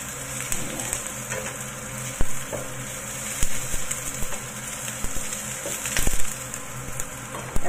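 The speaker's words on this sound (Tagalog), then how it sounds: "I-fry natin para mabango." Mushrooms for chicken adobo sizzle steadily in a hot pan, a constant bright hiss broken by a few louder crackles and stirring scrapes, heard up close with no talk.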